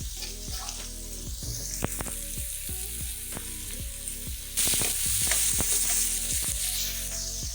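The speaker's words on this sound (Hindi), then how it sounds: "गाजरें हमारी अच्छी तरीके से फ्राई हो चुकी हैं।" Finely chopped carrots fry in a pan for spring roll filling, a continuous sizzle that grows brighter and louder partway through, under steady background music.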